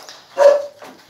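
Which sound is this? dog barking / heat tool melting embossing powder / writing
dog barking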